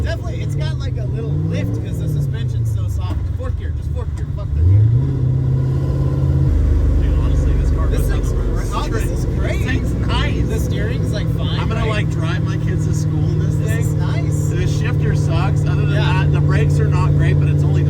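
A Hellcat supercharged LS-powered tow truck pulls in fourth gear, engine tone sweeping up then holding a loud, steady drone with a harsh whine, while someone talks over it.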